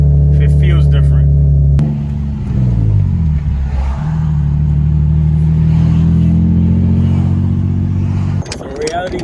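A Nissan 370Z Nismo engine revs and pulls through the gears while driving, loud and close, with a sharp shift break in the rising drone and a brief voice near the start.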